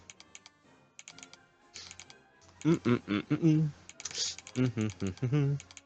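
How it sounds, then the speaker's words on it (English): Quick bursts of keyboard typing clatter in short runs of crisp taps, close up, pausing between flurries, with a person talking over the later keystrokes. "I'm actually having fun just typing my thoughts down on this."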